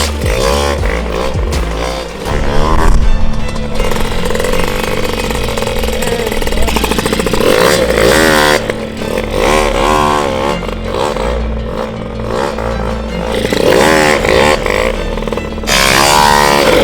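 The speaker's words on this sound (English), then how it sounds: "you can hear it rev way higher right now, just off the takeoff" A stunt moped's engine, its clutch newly adjusted, revs loudly and steadily up close, climbing high off the takeoff with a sustained buzzing drone throughout.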